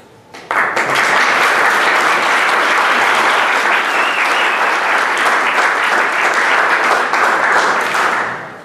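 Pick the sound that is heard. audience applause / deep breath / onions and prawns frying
audience applause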